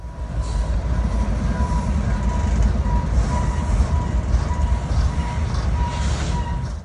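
A freight train carrying airplane fuselages rumbles steadily along the rails nearby, a continuous low roar with faint rhythmic clatter and a thin tonal hum.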